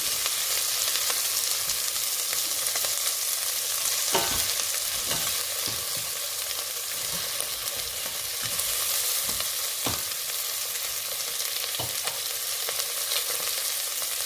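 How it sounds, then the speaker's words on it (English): Shrimp heads and shells frying in a hot pan for a shrimp broth, crackling with a constant bright sizzle broken by several sharp spatters and stirring scrapes, with no one talking. "now I will add the head and the shell of the shrimp. What I do now is just fry them until they turn pink."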